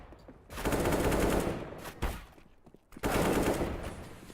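Pistol fire in a Counter-Strike: Global Offensive match between coL and Splyce, with bursts of loud shots clustered in the first second and a half, a lone crack near two seconds, then another dense volley toward the end.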